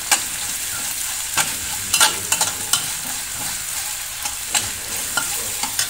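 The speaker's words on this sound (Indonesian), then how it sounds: "Dan di sini aku tambahin ada bawang goreng yang udah dicampur sama minyak." Fried shallots mixed with oil crackle in a pan as a utensil stirs through them, a soft continuous sizzle punctuated by scattered scraping taps, close up and with no talking.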